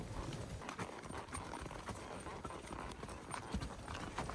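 Horses clip-clop steadily along a country trail ride, a dense, continuous patter of hooves close by with a faint whinny and low outdoor rumble beneath.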